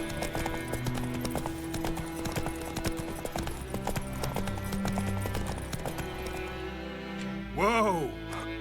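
Roach the horse clip-clops at a steady pace in The Witcher 3, hoofbeats running under continuous talking and game music, with a short neigh near the end.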